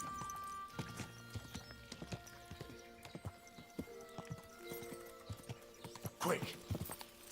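Horse hooves clip-clop at a steady pace in Kingdom Come: Deliverance 2, with a neigh near the end, over background music and faint voices.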